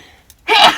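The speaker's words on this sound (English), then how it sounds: "Oh, Gesundheit." A short, sharp sneeze bursts out after a brief quiet moment, close and loud.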